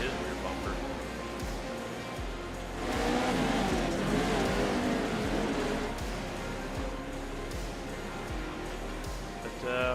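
JAT Pro 2L series race cars run on a track, engines droning steadily and swelling as they pass close, with a commentator talking throughout.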